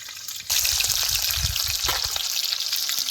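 Mustard seeds, cumin and chopped green chili hit hot oil at half a second, bursting into a loud, steady sizzle with crackling pops for masala rice, filling the rest close and unbroken.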